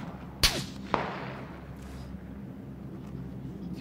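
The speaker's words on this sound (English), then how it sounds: "we're getting shot at from the warehouse below" Gunfire in a video game shootout, two sharp, distinct shots cracking about half a second apart, then fainter distant reports over a low background hum.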